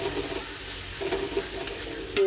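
Chili powder frying in hot oil for a pangas fish and potato curry: a steady close sizzle with light stirring and a few scraping taps, no talk.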